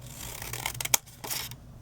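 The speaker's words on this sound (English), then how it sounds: "all I did was line up my paper shredding scissors" Paper shredding scissors with multiple parallel blades slicing down a strip of craft paper, a close, soft crisp snipping and rustle with one sharp click near the middle, heard alone.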